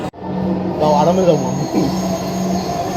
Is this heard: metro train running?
yes